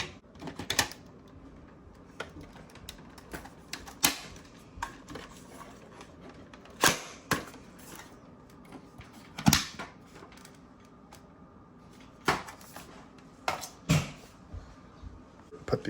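Screws being driven back into a Dyson V7 vacuum, a quiet scatter of sharp clicks and ticks at irregular intervals over low faint handling noise.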